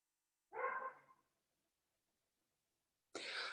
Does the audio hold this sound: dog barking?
yes